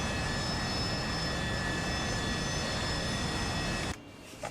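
Fighter jet engine in a video game roaring as a steady, loud, broadband rush with a faint whine above it, constant for several seconds before cutting off abruptly near the end.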